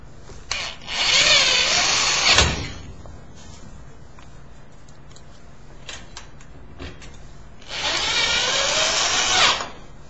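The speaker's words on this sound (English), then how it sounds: "I'm going to change my drill bit to a Phillips bit to screw the rest of the screws in." A power drill fitted with a Phillips bit drives screws into a filing cabinet while a locking bar is installed: two loud whirring bursts of a second or two each, separated by a quieter stretch of faint handling noise.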